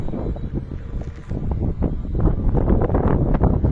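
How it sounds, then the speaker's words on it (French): Light wind of about 10 km/h blowing outdoors on a sunny day in the south near Luna Park, heard as a loud rumbling buffet against the microphone that swells toward the end. "Un léger vent d'à peu près 10 km/h"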